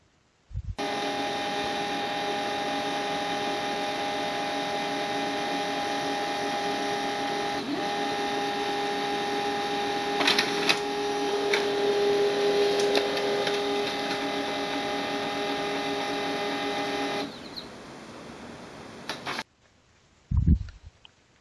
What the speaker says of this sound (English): select Print a Test Page.